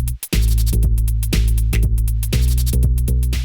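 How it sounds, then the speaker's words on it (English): Drums on a Teenage Engineering EP-133 K.O. II sampler play through a distortion send effect, giving a loud, gritty beat of repeated hits with heavy low thumps in a steady pattern. "use some distortion here on the drums."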